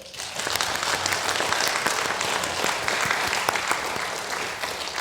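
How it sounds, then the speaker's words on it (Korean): Sustained applause from a church congregation at a Sunday evening service, steady and loud for the full stretch without a break. "하나님께 영광의 박수 올려드릴까요?"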